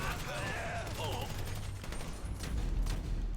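Gunfire rattles in the video game GTA 5, a continuous volley of shots under a voice talking.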